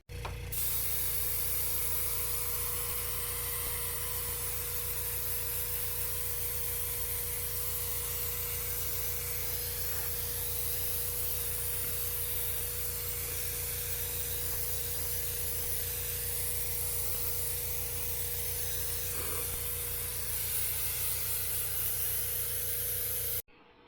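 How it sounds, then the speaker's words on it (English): An airbrush sprays black paint onto sealed Ghost Rider gauntlets, a steady unbroken hiss over a constant low compressor hum that lasts the whole stretch. "So I'm going to seal it with Mod Podge and a brush, and then airbrush it black."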